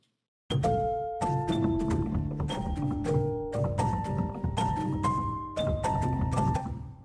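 Dark Kontakt Noir piano playing a flowing melody of single notes over low chords, steady and close, moderately quiet, with no talking.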